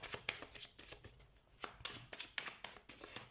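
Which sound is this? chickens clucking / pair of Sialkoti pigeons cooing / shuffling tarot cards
shuffling tarot cards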